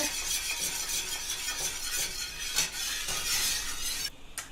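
Gravy is stirred in a pan while it thickens, giving a steady scraping, sizzling swish with occasional light clinks of the utensil against the pan.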